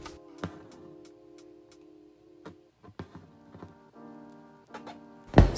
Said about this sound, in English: Sorry about the needle sound.